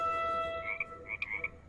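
Frogs croak in the LEGO Worlds video game, a couple of short, close croaking bursts following a steady tonal hum, with no talk over them.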